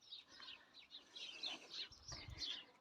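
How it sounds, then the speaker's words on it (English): Small birds chirp and tweet in garden trees behind a seating area, a steady run of high, fairly faint calls with a brief low rumble near the end. "You can hear all the dicky birds back there."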